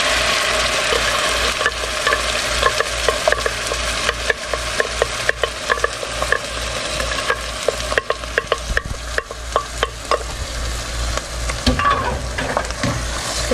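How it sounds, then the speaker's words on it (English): Tomato sauce being stirred in a frying pan for a deep-dish meat pizza, a steady sizzle with repeated scraping clicks of the utensil against the pan, close and fairly loud with no talking. "Stir it around."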